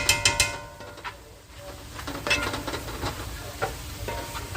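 Ground meat with taco seasoning sizzles in a pan while it is stirred, with scraping and soft clinks against the pan over a steady frying hiss. The sound is close and moderately loud.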